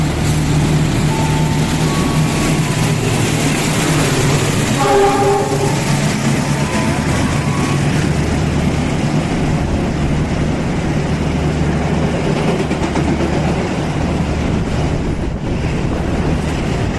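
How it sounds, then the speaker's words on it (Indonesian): The Bogowoto train arriving on track 7 at Cikarang station in Indonesia, a loud continuous rumble of rolling rail cars, with a brief horn-like tone near the start. "Jalur 7 masuk kereta api Bogowoto."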